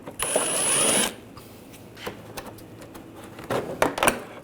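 A 10mm socket works fasteners loose while a hood release cable is replaced on a 2014-2019 Toyota Corolla, giving a dense one-second mechanical whirr followed by sparse clicks and light clunks, then a short clattering flurry near the end.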